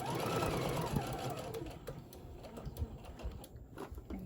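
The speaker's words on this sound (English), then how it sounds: "I'm coming up where it's getting close to where the ear is. And you want to sew carefully." A sewing machine stitches carefully along a handmade teddy bear near its ear, a steady close mechanical whir and clatter with a faint voice now and then.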